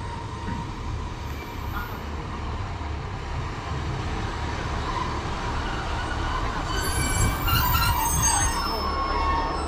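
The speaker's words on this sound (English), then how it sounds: "arriving in now is a 1628 Northern service to Adwick from Sheffield" A Northern Class 152 diesel passenger train pulls into a South Yorkshire station on a Sheffield to Adwick service, its steady rumbling rolling noise continuous throughout and growing louder, with squealing wheel and brake tones near the end.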